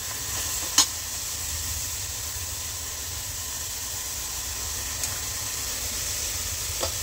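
Green chilies sizzle steadily in hot oil for dal tadka, a soft continuous frying hiss with a few faint clicks of utensils, no talking.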